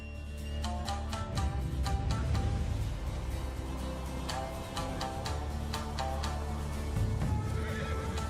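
Horses neigh repeatedly in loud, close whinnies over a steady clip-clop of hooves, with a rhythmic layer of sound running underneath throughout.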